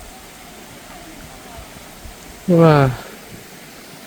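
Pancuran Pitu hot spring waterfall on a mountain near Purwokerto, Central Java: a steady, moderately loud wash of falling water runs throughout, with a brief excited exclamation from a person partway through.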